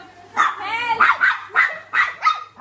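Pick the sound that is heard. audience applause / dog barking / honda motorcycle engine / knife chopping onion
dog barking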